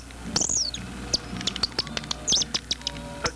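A man whistles an imitation of a cardinal's call, sharp downslurred chirps repeated in an irregular series with soft clicks between, close and clear with no talking.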